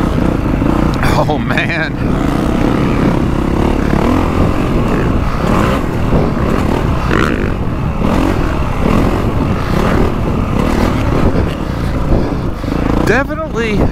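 A 2024 Honda CRF450 Works Edition dirt bike fitted with Ride Engineering triple clamps takes a slow lap, its engine droning steadily and loudly close by, with wind rush and a short spoken remark over it.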